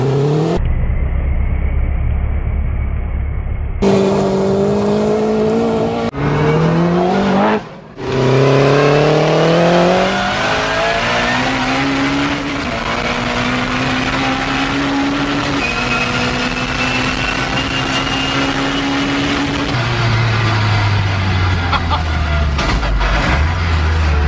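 Heard from inside the cabin, a 500bhp Metro with a K20 engine roars loudly through repeated hard accelerations, the revs climbing in long sweeps between gear changes and a brief lift off the throttle.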